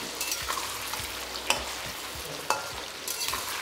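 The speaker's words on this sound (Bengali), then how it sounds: "এবার এই আলুগুলো যতক্ষণ ভাজা হচ্ছে" Potatoes fry in oil with salt in a pan for a cauliflower-potato dish, giving a close, steady sizzle broken by two sharp stirring scrapes of the spatula; no one speaks.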